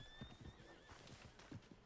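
A horse in Red Dead Redemption II whinnies with a high, wavering neigh while quiet hoof clip-clops and low thuds sound beneath, brief and fairly faint.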